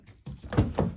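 A 2017 Hyundai Tucson rear door unlocks with a couple of short, close, dull thunks from the lock actuator.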